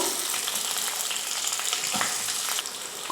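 Curry leaves and onion sauté in hot oil with dal, giving a close, dense, steady frying sizzle that runs evenly for a few seconds without pause.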